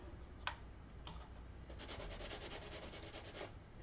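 Faint, scratchy rubbing on the back of small glittery craft pieces, heard as a few soft, scattered strokes and then a steadier run of short brushing passes, with no talking.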